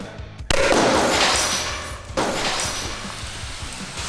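A small smoke grenade is fired from a grenade launcher through a window: a sharp, loud pop that turns into a rushing hiss, then a second abrupt burst of hissing that slowly fades, with no talking.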